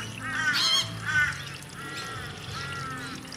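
Geese honk repeatedly in a series of nasal, brassy calls, fairly close, at a bird sanctuary, with no talking.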